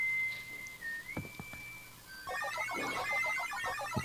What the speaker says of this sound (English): The full whistle theme.